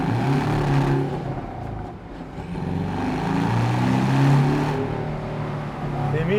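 A Porsche 718 Boxster S 2.5 with manual gearbox pulls hard in comfort mode, its engine note rising and falling through the gears, loud and close throughout.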